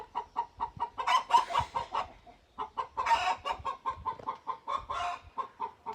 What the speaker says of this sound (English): Chickens. Got chickens.